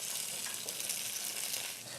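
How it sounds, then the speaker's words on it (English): Steady, bright sizzling of garlic and ginger frying in hot oil, close and continuous, with a faint stir now and then. "when we add the garlic and ginger, it's going to be able to sizzle and get cooked well"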